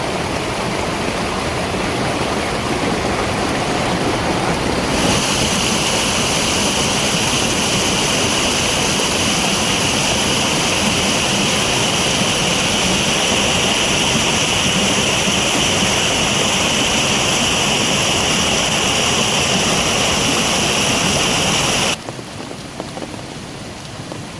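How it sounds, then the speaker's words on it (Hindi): A heavy rainwater torrent roars down a mountain gully in the hills during a storm, a loud, dense, continuous rush of water close by that fills the whole stretch before cutting off near the end. "ये देखिए कितना सारा पानी आ रहा है और ये ऊपर से पूरा गधेरा ऐसा लग रहा है पूरा झरना सा बन रहा हो"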